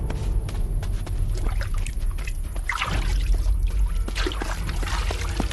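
Water trickling and pouring outdoors, a continuous splashing babble with small drips and gurgles, fairly close and steady throughout.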